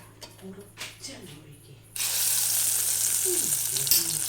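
Cauliflower pieces dropped into hot coconut oil break into a loud, steady sizzle that runs on without pause. Before that comes a short stretch of quieter kitchen sounds with a little talk.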